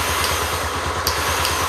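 A running Honda Tornado XR motorcycle with its starter motor engaged while the engine is already turning over, giving a rapid, even low thumping rhythm close up with a couple of brief metallic clicks on top.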